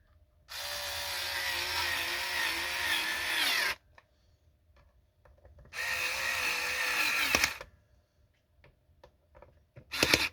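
A cordless screwdriver drives pickguard screws into a Squier Classic Vibe 60s Jazz Bass, whirring in two long bursts separated by a pause, its motor note shifting as the torque clutch engages, with a short third burst at the end.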